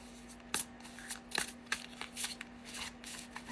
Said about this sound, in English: They shuffled pretty good, actually. Especially for being brand new.